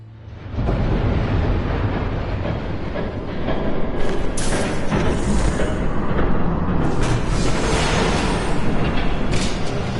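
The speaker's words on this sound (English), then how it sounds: "There's a train coming." A train passes close by, a loud steady roar of rolling wheels and rail clatter that builds in and holds for the full ten seconds, with no talking.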